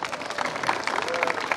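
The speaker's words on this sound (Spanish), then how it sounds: "¡Un aplauso para el bien!" A crowd at a Three Kings parade claps in a brief, dense patter of applause, moderately loud, mixed with some voices and cheering.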